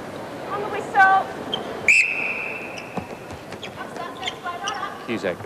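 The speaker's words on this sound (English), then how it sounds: "On the whistle." A referee's whistle sounds at a 1995 national league netball match, one sharp, clear blast over steady crowd noise and commentary.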